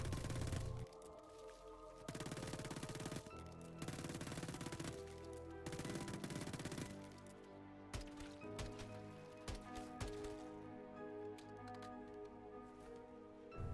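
Rapid automatic gunfire from Modern Warfare Zombies tears through bursts of shooting at zombies, loud and dense, with short gaps and scattered single shots against game background sound.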